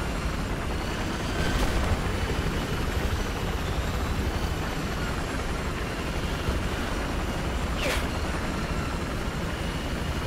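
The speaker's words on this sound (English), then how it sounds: "I've spotted a hostile helicopter" A helicopter's steady rotor and engine drone in the video game Battlefield 4 runs throughout at moderate distance, with a couple of brief sharp sweeps over the constant noise.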